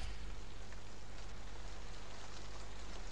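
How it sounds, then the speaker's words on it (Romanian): Steady rain falls and patters on surfaces, a dense even hiss with a low rumble underneath and no voices. "Eu văd că Baal ne-a trimis nouă ploaie."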